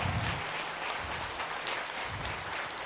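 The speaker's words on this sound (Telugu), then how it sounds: "ఇంకా గట్టిగా చప్పట్లు" An audience claps together at a meditation gathering, a dense, loud, steady wash of applause that holds without a break from start to finish.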